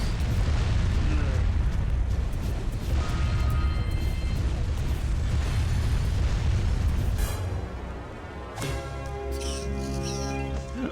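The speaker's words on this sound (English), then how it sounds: "All the fucking explosions." Explosions and booming blasts from the video game Jak and Daxter: The Precursor Legacy, loud and continuous with layered game effects and music, with a person talking over much of it.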